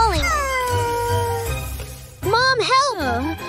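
A cartoon cat gives drawn-out, expressive meows over a light music bed, one long falling cry followed by wavering, bending calls, loud and close.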